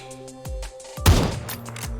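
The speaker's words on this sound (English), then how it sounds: "Gunshots are not helping with the relaxing at all." Gunfire in PUBG, a couple of sharp shots followed by a booming blast with a rolling tail, moderately loud against game ambience.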